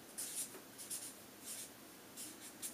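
Pen strokes scratching on paper while working through a fraction multiplication problem, several short bursts of writing in a quiet room, close and soft.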